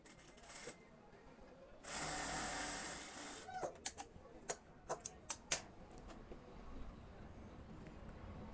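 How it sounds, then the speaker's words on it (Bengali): A sewing machine runs in one short burst of about a second and a half, stitching a narrow folded hem on a cotton petticoat waistband, followed by a string of sharp clicks and handling taps. "এখন আমি ওই মাথায় সেলাই করে নিব"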